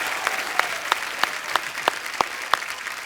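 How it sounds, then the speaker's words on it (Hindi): Studio audience applause in a comedy show, a steady wash of clapping with sharp individual claps standing out at a regular rhythm, moderately loud and close. "जोरदार तालियां एक बार हो जाए।"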